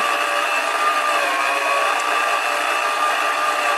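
Hamilton Beach electric mixer whirring steadily on its second speed while mixing cake batter with milk, a continuous high-pitched motor whine close by with no talking.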